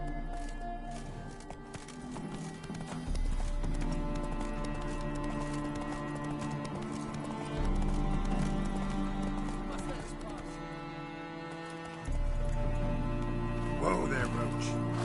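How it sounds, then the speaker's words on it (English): Horse hooves clip-clop at a steady walking rhythm in the Witcher 3 video game, fairly loud and close, over a continuous bed of game music and ambience. "Whoa there, Roach"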